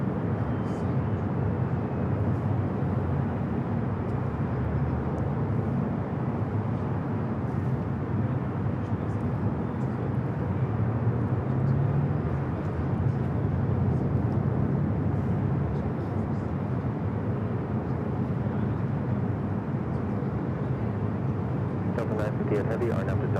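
A jet airliner taking off at Los Angeles International Airport, a continuous loud roar of engine and rushing noise sustained throughout, heard from a distance outdoors.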